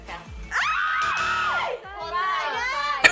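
Loud crowd shouting and screaming during a Christmas roll-and-rob game, rising in sustained high-pitched bursts with a brief dip, then more excited yelling and squeals.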